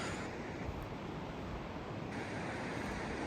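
Rapids on the Colorado River in a northern Arizona canyon give a steady, broad rushing roar, even and unbroken throughout, with no voices.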